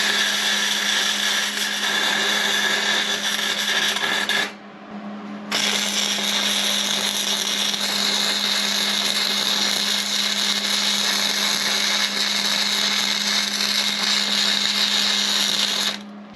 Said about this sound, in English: All I got left to do is weld right up in here.